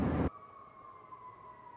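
A steady, eerie siren-like tone from the horror film The Outwaters holds and slowly sinks in pitch after a brief loud burst at the start. It drones on alone and fairly quietly.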